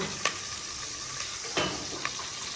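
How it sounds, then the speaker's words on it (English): Onions sizzle steadily while frying in a pot, with a few brief stirring scrapes and clinks breaking through the constant crackle. "So I'm just gonna wait for the onions to get a little bit translucent or transparent."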